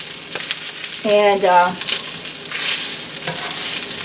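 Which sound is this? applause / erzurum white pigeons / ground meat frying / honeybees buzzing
ground meat frying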